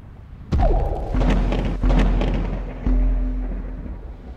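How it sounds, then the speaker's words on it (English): Lightning strikes and thunder from the video game Sandbox of God: a sharp crack, then three loud, close booming rumbles that roll on and slowly fade. "Lightning."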